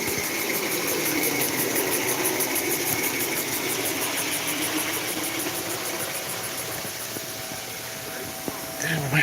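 A miniature railway engine draws steadily nearer, its continuous mechanical running sound loud and sustained throughout with no voices over it.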